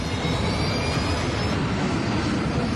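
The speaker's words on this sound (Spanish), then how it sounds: "La tripulación da energía a los motores de las alas." The wing-mounted jet engines of an American Airlines flight 96 airliner give a loud, steady roar with a broadband rush and a faint whine riding on top, continuous and close throughout.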